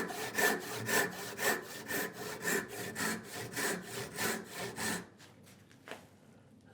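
Hand saw cutting through wood for a tenoned mitre joint, a steady run of about fifteen rhythmic push-pull strokes, close and clear, stopping abruptly near the end with a few faint taps afterward.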